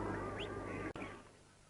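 Ducks quack close by, a short nasal call standing out early over a steady outdoor background before it fades.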